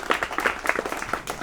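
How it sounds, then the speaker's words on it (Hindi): Applause from an audience at a Jain Paryushan religious gathering, a brief burst of scattered clapping that fades out after a moment and is mixed with some murmuring. "जोरदार तालियां बजाइए इसके लिए।"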